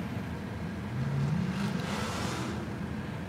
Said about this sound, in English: Who's making that noise? Is that Camaro over there?